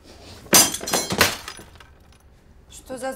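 A phone breaking at home with glass shattering, one loud sharp crash followed by a few scattered clinks and rattles, close and alone, with a brief voice starting near the end.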